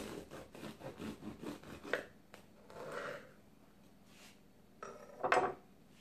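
A knife saws through a homemade French baguette, several close crackly crust strokes at first, then a pause and a final louder crunchy cut.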